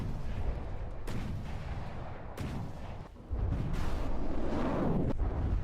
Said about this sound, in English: Missiles coming in and hitting.